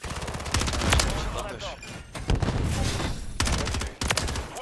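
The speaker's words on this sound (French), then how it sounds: "ça c'est de la mitraillette" Rapid bursts of submachine gun fire in the video game Modern Warfare 3, several loud close volleys separated by brief pauses, with a game soundtrack underneath.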